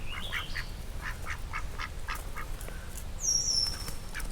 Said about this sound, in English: Oh, they are ducks, I guess.